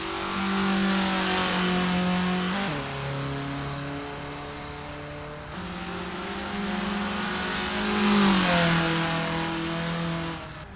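Formula Ford race cars lapping Brands Hatch in a sim racing game, engines droning steadily with gear changes and rising and falling revs, several cars heard together and nobody talking.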